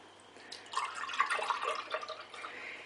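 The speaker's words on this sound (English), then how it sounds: "pour the milk in." Milk poured into a tall jug for a stick-blender dressing, a soft, close liquid trickle and splash that swells after the first half second and keeps running steadily to the end.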